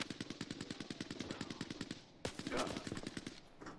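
Rapid automatic gunfire in the shooter game Arena Breakout: Infinite, a fast, even burst of shots that pauses briefly and then resumes in a second dense burst, moderately distant and fairly quiet.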